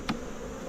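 Honey bees buzz faintly around an open hive during a fall inspection, a soft steady hum with one brief click near the start, no voices.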